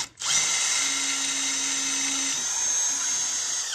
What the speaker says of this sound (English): As we use successively larger drill bits, the drilling is easy.